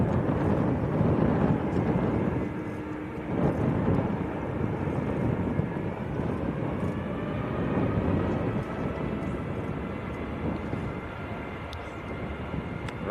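An airplane at Manchester Airport roars with a steady, broad rumble heard from the spotting area, loud and continuous with wind buffeting the microphone.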